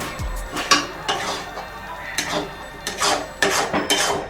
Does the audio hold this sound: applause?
no